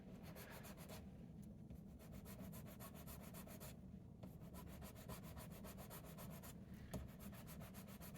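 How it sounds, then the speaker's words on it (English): A metal file rasps steadily against the plastic legs of a Lego figure, a close, continuous rubbing scrape with brief pauses, heard alone without talk. "You can get at it a little bit with a file."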